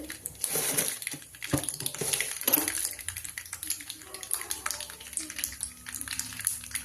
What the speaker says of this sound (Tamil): இப்போ ஊறுகாய் நல்ல சுத்தமான கடலக்கொட்டை எண்ணெயும் கடுகு போட்டாச்சு. கடுகு பொரிஞ்சுக்கிட்டே இருக்குது.